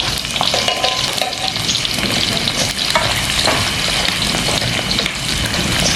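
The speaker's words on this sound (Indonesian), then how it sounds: "Sekarang goreng apa Pak? Goreng jengkol." Jengkol beans frying in hot oil crackle and sizzle loudly and steadily at close range, with occasional stirring clinks and scrapes.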